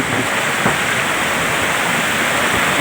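A mountain waterfall on a trekking route in Uttarakhand's Valley of Flowers pours with a continuous, loud, close roar of rushing water, steady throughout and with no one speaking.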